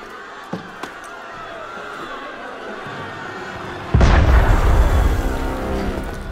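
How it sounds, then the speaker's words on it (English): Cannon fire in the Assassin's Creed Unity video game, heard as a single sudden deep boom that rolls into a sustained low rumble after a quiet ambient stretch. "That was cannon fire."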